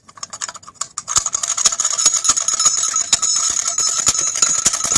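A 40 HP Mercury outboard lower unit with a broken part rattles as it is turned with fresh water flowing through it, a rapid irregular metallic clatter with bright ringing tones, close and loud, no talking.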